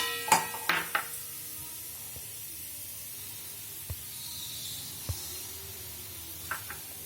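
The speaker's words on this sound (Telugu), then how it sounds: "దీనిలో కొంచెం ఆవాలు, కొంచెం జీలకర్ర వేసుకోండి" Mustard seeds and cumin added to hot oil in a pan while cooking aloo kurma give a faint sizzling hiss, with a few sharp crackles and pops and occasional utensil clinks, quiet and close.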